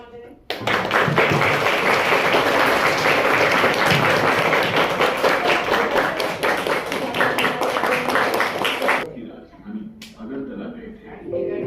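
An audience of students in a Hindi language class gives a burst of loud, dense applause that lasts about eight seconds and then stops abruptly, leaving a quieter room with a few stray sounds.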